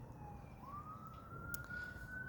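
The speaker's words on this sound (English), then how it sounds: "even now I can hear a ambulance, or wambulance as one of my friends calls them, going off as well in the distance" A faint ambulance siren wails far off, a thin tone slowly rising and holding under steady low background rumble.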